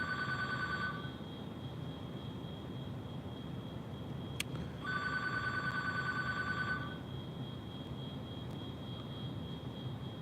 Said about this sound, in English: I don't answer the phone.